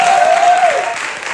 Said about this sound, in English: Get one more round of applause, for you guys.